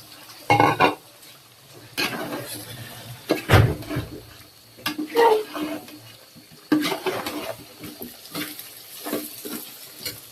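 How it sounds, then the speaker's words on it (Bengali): Potatoes go into meat cooking in a pot, a few loud splashing, sizzling bursts as they drop in and get stirred, separated by quieter frying, close up with no talking. "আর আমি এখন এই মাংসের মধ্যে আলু দিয়ে দিব।"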